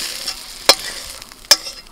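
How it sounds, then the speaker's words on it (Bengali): Fried prawns being stirred into pumpkin greens in a pan, two sharp metallic scrapes of a utensil against the pan over a faint sizzle, no talking. "একেবারে আমি শাকের মধ্যে দিয়ে দিচ্ছি মাছ ভাজাটা।"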